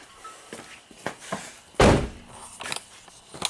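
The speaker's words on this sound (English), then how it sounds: "unlock the door" An Acura TSX car door being handled after unlocking: a few light clicks and knocks, then one solid, close thunk, followed by more soft handling taps.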